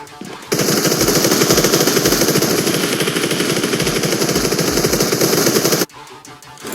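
Sustained automatic gunfire in the PUBG Mobile video game rattles loud and continuous for about five seconds, then cuts off abruptly into quieter game noise.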